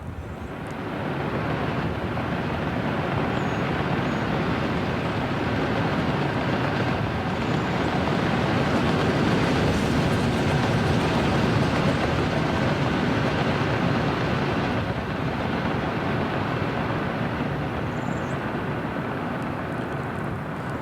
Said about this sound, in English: That's a coal train.